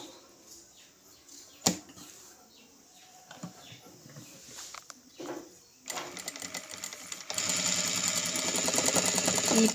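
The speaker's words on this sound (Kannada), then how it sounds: "ಈಗ ನಾವೇನು ಮಾಡೋಣ, ಇದನ್ನು ಈ ರೀತಿಯಾಗಿ ಸ್ಟಿಚ್ ಹಾಕ್ಕೊತಾ ಇದ್ದೀನಿ" A sewing machine stitches piping onto fabric, starting after some quiet handling and clicks, then running in a fast, dense rattle that grows louder and steadier toward the end, close to the listener.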